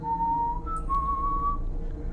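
A whistled tune in the HeroQuest board game, voicing a spider lowering itself on its thread from the ceiling: a few clear sustained whistle notes sliding upward over a low background rumble, with no talking.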